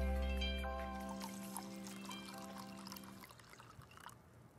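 Water is poured from a sleeve into a champagne glass, a soft trickle and light splashing heard faintly after a fading musical chord.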